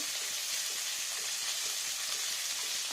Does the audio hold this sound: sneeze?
no